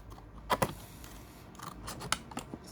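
Scissors snip through paper while cutting out a paper box, with two quick close cuts near the start and another sharp snip later against a quiet room.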